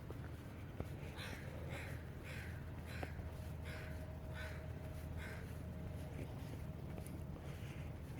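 Crows caw outdoors in a slow series of harsh, repeated calls, some distance away and fairly faint, over a steady rush of wind.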